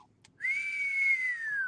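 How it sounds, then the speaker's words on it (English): A single sustained whistle, loud and clear, starts after a brief quiet moment and holds one steady, slightly falling pitch for over a second, with no talking over it. "Another whistle."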